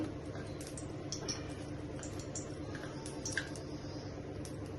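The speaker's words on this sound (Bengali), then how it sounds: "এভাবে ইলিশ মাছগুলোকে ফ্রাই করে নিচ্ছি।" Hilsa fish pieces coated with salt and turmeric fry lightly in oil, giving a soft, continuous sizzle with scattered small pops and crackles, quiet and close up.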